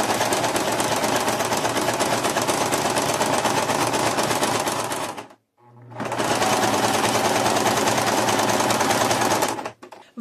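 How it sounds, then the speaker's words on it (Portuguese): A sewing machine runs a zigzag or straight stitch along the side of a fabric piece, a loud, fast, steady mechanical hum that halts briefly midway, then resumes. "eu vou costurar um zigue-zague ou um ponto reto aqui nessa lateral"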